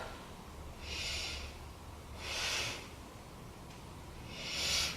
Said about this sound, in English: Take 3 breaths